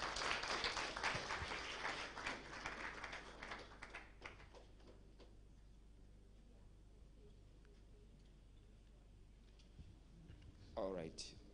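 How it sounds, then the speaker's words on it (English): Audience at a Gauteng youth entrepreneurs' pitching event clapping: a quick patter of many hands that fades out after about four seconds into a quiet room, with a short voice near the end. "Can we please give a round of applause once more?"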